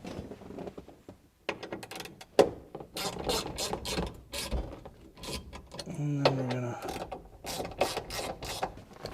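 A clamp is tightened on a 1969 VW Beetle under restoration, giving bursts of close ratcheting clicks and metallic scraping with short pauses, some rising creaks, and brief speech mixed in.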